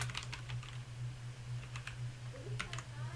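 Rapid, light clicking of fingers typing on a computer keyboard, several bursts of keystrokes over a steady low electrical hum, close and moderately quiet.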